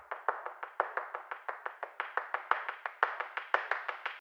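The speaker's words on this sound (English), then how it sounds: "I did the same with this clap sample, sounding like this." Filtered, pitched clap sample from a liquid drum and bass track, repeating in a steady quick rhythm of crisp, bright hits with short tails, dry and alone with no other instruments.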